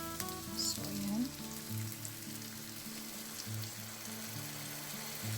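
All-purpose cream sauce for chicken a la king bubbling gently in a pan, soft steady sizzle with faint clinks and background hum, quiet throughout.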